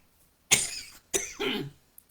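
Two harsh coughs close by, separated by a brief pause, in an otherwise quiet room.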